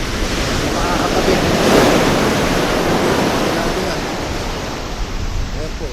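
Big rough ocean waves surge and pull back along the shore in stormy weather, a loud continuous roar of surf with heavy wind buffeting the microphone throughout.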